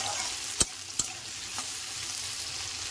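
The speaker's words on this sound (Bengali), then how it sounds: "আমি সবজি ভেজেছিলাম সেই তেলেতে আলুগুলোকেও ভালো করে ভেজে নেব" Potatoes frying in oil left over from frying vegetables give a faint, steady sizzle close by, punctuated by two or three sharp clinks and scrapes of a spatula against the pan.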